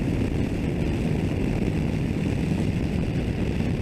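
A low-power 500 cc motorcycle engine drones loud and steady while riding on the street, blended with a dense rush of wind noise throughout.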